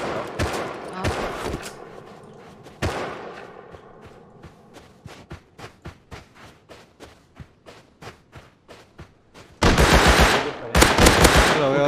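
Gunfire in the Rust survival game: a loud opening volley, then a long run of evenly spaced single shots, and a final intense burst of rapid automatic fire close by.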